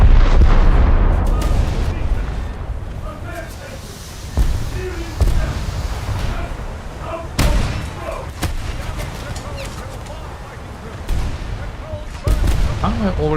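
Ship guns firing in a naval combat video game, repeated heavy booming salvos every second or two over a constant rumbling background, loud and close, with someone talking between shots.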